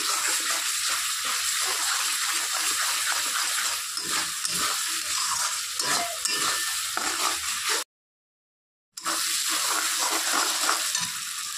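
Spices frying in a pan with oil for a banana flower and fish head curry, giving a steady close sizzle and crackle with faint stirring, briefly cut to silence partway through.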